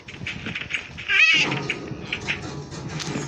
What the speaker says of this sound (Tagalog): Makulit kang pusa ka.